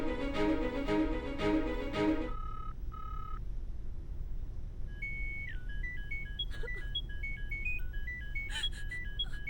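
A phone rings with a loud melodic electronic ringtone, followed by a quieter stretch and then more tonal beeping phrases against a constant low background hum.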